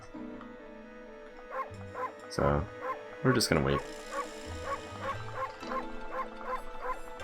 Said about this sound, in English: This is unfortunately the max speed you can bark at.